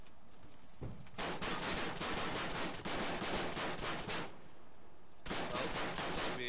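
Bursts of rapid automatic gunfire from a multiplayer shooter video game come in long sustained volleys separated by short pauses, dense and fairly close, with no voices over them.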